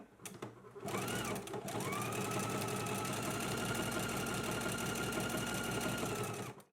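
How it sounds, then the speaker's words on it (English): A sewing machine stitches a buttonhole on a garment, starting with a few short clicks and then settling into a steady, close, even whirring hum that runs for several seconds before stopping. "we can move to the sewing machine and stitch on our buttonholes"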